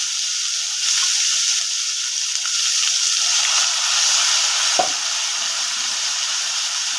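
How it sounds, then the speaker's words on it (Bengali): Onion paste frying in a pan while being stirred gives a steady, moderate hiss with faint scraping and one brief clink midway, no voices. "ভালোভাবে এটা নাড়াচাড়া করে ভালোভাবে ভেজে নেব।"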